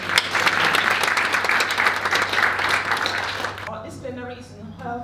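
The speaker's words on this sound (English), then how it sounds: "can we put our hands together?" Audience applause at a women's summit plenary session on health and well-being, a steady, fairly loud wash of clapping from a seated crowd that fades out near the end, followed by a voice speaking.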